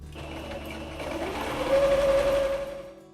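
A sewing machine runs a long gathering stitch, its motor humming steadily and rising to a sustained whine that holds for about a second before easing off, close and moderately loud with no talk.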